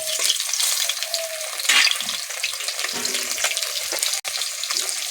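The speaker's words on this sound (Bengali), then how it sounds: "ওই তেলের উপরে সয়াবিনগুলো দিয়ে দিচ্ছি।" Soya chunks dropped into hot oil in a pan give a close, continuous crackling sizzle for about five seconds, with no talk over it.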